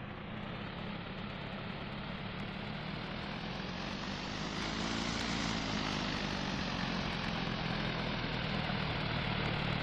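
A propeller plane's engine drones steadily at takeoff power in the Condor 2 flight simulator game, a loud continuous roar that swells slightly partway through and holds to the end, with no talk.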